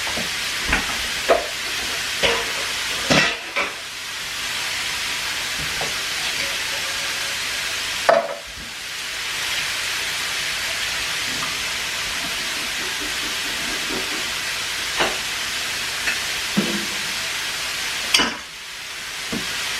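Kangaroo mince frying in a pan for chilli con carne: a steady, broad sizzle runs throughout, with occasional scrapes and clacks from stirring and breaking up the meat. There are a few faint background sounds.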